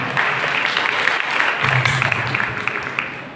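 A church congregation bursts into applause, a dense and fairly loud clapping that stays full throughout with a faint voice beneath it.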